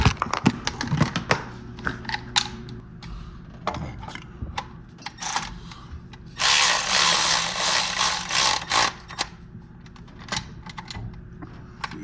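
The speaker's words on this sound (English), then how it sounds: "Get the walkie, take that 12 mil off." Hand ratchet removing a 12 mm bolt from the water pump on an RA29 Celica with a 20R engine, giving rapid clicking runs and metallic taps close by, with a longer burst of fast ratcheting partway through.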